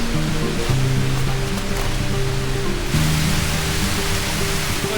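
A waterfall at the top of a cliff in Montreal rushes in a steady, loud, broadband roar that fills the whole clip, with low tonal hum layered underneath and no talking.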